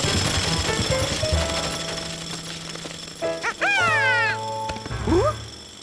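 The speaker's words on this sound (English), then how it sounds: "I'll turn off that jackhammer." Cartoon jackhammer pounding at a closed construction site, a continuous rapid rattling hammer that runs under the scene while animated voices and a dog-like yip and whine break in partway through.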